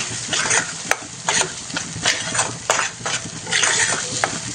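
Masala fries in oil on low flame for a Maharashtra-style chicken rassa, crackling under repeated spoon strokes that scrape rhythmically against the pan, close and fairly loud.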